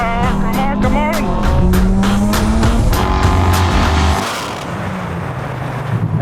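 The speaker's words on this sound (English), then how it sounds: "What will happen in a drag race between the most iconic cars from the first Fast and Furious movie?" Iconic cars from the first Fast and Furious movie drag race over a quarter mile, engines revving loud and close with rising gear pulls and tyre squeal, then roaring away into a steadier drone.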